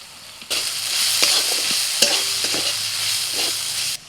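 Ground spices (turmeric, coriander, cumin, Kashmiri chilli powder, salt) sizzle and fry in a pan for Kolkata-style egg devil, a steady close sizzle with a few sharp stirring scrapes and clinks throughout.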